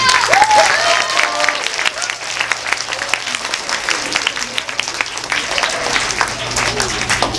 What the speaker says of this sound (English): I'd like everyone to applaud them right now